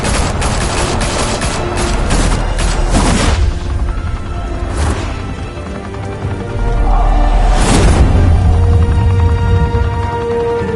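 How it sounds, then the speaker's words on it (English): A Batman video game shootout bursts into dense automatic gunfire, rapid loud volleys in the first three seconds, then scattered single shots and a heavier boom near eight seconds, close and sharp throughout with no talking. "Open fire!"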